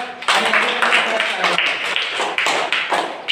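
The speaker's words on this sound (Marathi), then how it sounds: "यांच्यासाठी जोरदार टाळ्या होत्या" Loud applause from an audience at a quiz competition, dense clapping and tapping filling the room steadily for a few seconds, with some voices mixed in underneath.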